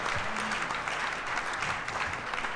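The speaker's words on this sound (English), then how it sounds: "How about a big round of applause tonight for the Outlaw and Patrick Taylor?" A studio audience applauds guests on a live Green Bay Packers clubhouse show, a steady, dense burst of clapping that fills the whole moment without any talk over it.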